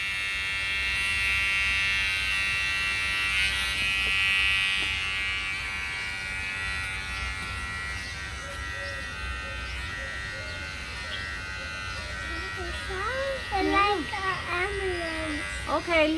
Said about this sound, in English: I'm going to take the opportunity to get my little clippers and clean up the edges